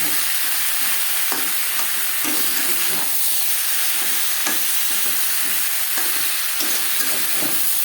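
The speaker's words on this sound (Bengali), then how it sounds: "মশলার সাথে আলু বেশ ভালো করে ভাজা হয়ে গেছে" Steady frying sizzle of potatoes with spices, tomatoes and cumin runs throughout, with occasional scraping and stirring knocks from a spatula in a pan; no voices.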